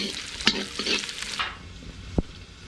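Onion frying in a pan with cinnamon, cumin and mustard seeds: a steady close sizzle with a few sharp stirring scrapes that fades toward the end, with no talk.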